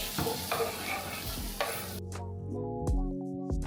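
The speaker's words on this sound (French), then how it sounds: "On va mettre un filet d'huile d'olive dans la poêle et on va faire revenir les courgettes." Courgettes sauté in olive oil in a frying pan, frying sizzle with stirring clatter that cuts off abruptly, followed by a few distinct clinks and scrapes of utensils against the pan.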